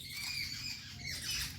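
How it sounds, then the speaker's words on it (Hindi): Small birds squawk and chatter in agitated, overlapping bursts as a cat comes near their young, a busy, fairly close chorus with no talk. "बिल्ली आ गए हैं इसीलिए चिड़िया इतना चहचहाट कर रही है, उनके बच्चे को ना खा जाए"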